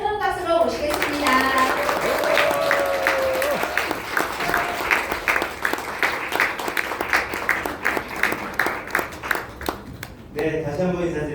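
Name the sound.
audience applause welcoming a speaker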